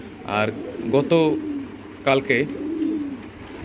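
Pigeons in a pigeon house give several soft, close coos in short bursts, while a person talks nearby.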